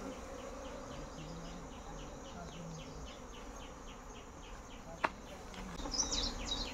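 Honeybee drones and worker bees buzz at a beekeeper's hive in a continuous low, droning hum with pulsing wingbeats, faint and close, broken by one sharp click near the end.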